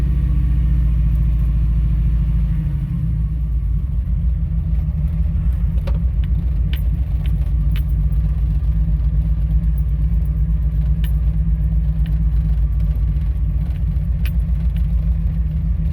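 A car engine fitted with an Offenhauser dual port intake runs steadily and loudly, a continuous deep rumble with no pauses or talk.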